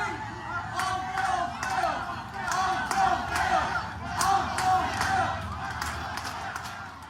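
A large crowd at a baseball game on a Wednesday night keeps up a continuous roar of cheering, shouts and claps at moderate distance, with voices talking nearby.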